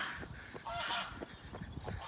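Geese honking repeatedly in a loose, overlapping chorus beside the River Thames near Sandford, moderately close, with outdoor background noise.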